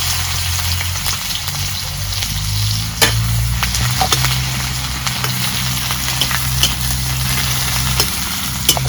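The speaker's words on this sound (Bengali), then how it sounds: "কড়াই গরম হলে সরষের তেল দিয়ে দেব। এখন আমি পেঁয়াজ কুচি দিয়ে দিলাম।" Chopped onions sizzle steadily in hot mustard oil in a wok, a continuous close frying hiss with occasional crackles and stirring clinks, no voices.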